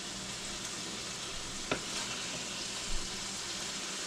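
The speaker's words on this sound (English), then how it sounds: "Just browning them a little bit." Food browning in a frying pan gives a soft, steady sizzle at low volume, with a single brief click near the middle and a faint knock later.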